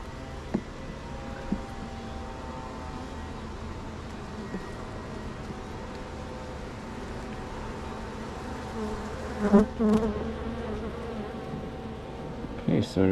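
Honeybees buzz around hive frames in a steady, dense drone close by, with occasional bumps and frame-handling knocks toward the end.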